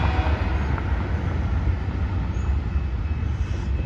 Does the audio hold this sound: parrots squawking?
no